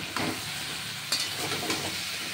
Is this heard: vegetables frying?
yes